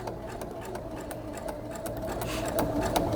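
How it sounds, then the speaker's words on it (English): A sewing machine stitching a paper pieced star block at a slow pace, a steady mechanical hum with rapid even needle ticks that grows slightly louder toward the end, close up and with no talking. "I'm just sewing slowly"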